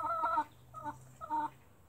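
A crossbred hen clucks in three short bursts, close and moderately quiet, with brief pauses between them.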